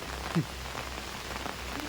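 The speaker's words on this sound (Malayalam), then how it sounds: "മഴയത്തൊരു കാർ പോകുന്നു" Rain falls steadily on a surface in a soft, continuous patter, with a brief low thump near the start and a faint rising tone toward the end.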